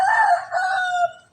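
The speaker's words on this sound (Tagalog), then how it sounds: "ando na naman yung manok" A rooster crows once, a loud, drawn-out call that rises and then trails off, heard close and alone.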